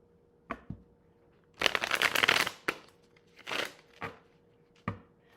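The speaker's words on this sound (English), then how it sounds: "let me shuffle really good here." Tarot cards shuffled close by: a few sharp taps, then a long dense riffle and several shorter shuffling bursts and card slaps, with quiet pauses between them.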